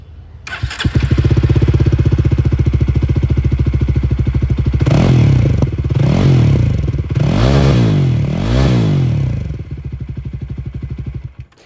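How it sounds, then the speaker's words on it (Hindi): A Jawa Bobber 42 motorcycle with dual exhausts starts and idles with a steady, close thumping beat, then is revved three times in rising and falling swells before settling back to idle and cutting off. "एग्जॉस्ट साउंड आप लोग सुन लीजिए।"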